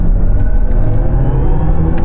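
Electric BMW iX M60 accelerating: a steady low rumble with a faint motor whir, continuous and fairly loud from within the cabin, with no voices.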